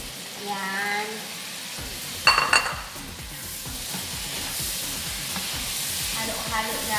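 Shrimp sizzles in a pan with butter and toasted garlic, a bright steady frying hiss broken by a sharp clatter of a utensil against the pan and the scrape of stirring; faint voice traces are present.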